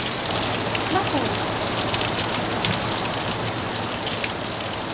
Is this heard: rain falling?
yes